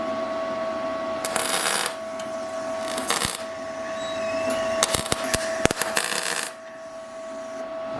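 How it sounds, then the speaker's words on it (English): Tack welding on a car body seam inside a fabricated inner wheelhouse panel, heard as several short bursts of sharp crackling buzz separated by pauses, close and moderately loud, with no talk. "I'm going to put a tack weld on this flat area inside here."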